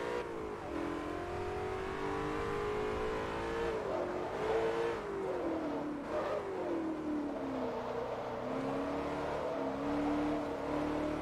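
A 2009 BMW M5 in the Forza Motorsport 3 racing game, driven on the Amalfi circuit, revs hard and continuously with a rising and falling engine note through gear changes, loud and close with no talk.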